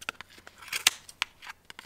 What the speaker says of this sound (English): You keep your scissors kind of in the center here, this guide, and you just snip the yarn